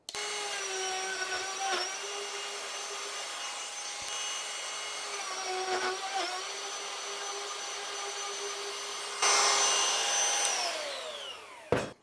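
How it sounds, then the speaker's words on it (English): A router with a template bit trimming wood, a steady loud high whine with strong harmonics, a brief dip in pitch as it cuts, growing louder near the end before spinning down. "So I set up my router bit so I just barely have a little bit left over"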